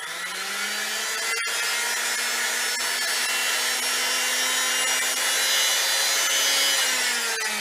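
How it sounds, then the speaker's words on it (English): A Singer 247 sewing machine motor, unserviced, runs steadily under foot-pedal control: a close, continuous whirring hum with a faint dip in pitch midway and no talking. "And now I'm going to test the motor."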